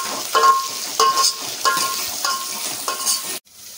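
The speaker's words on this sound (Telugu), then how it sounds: "ఉల్లిపాయలు బాగా గోల్డ్ కలర్ వచ్చేదాకా వేసుకోవాలి." Chopped onions fry to golden in a pan, a steady sizzle broken by five rhythmic metallic stirring scrapes of a spoon against the pan, close and clear, ending in sudden quiet.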